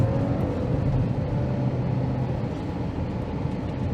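A 2023 Genesis G80 Advanced 2.5T RWD sedan pulls hard under acceleration, a steady low engine and road rumble heard from inside the cabin without talk.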